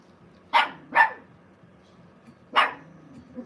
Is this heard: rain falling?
no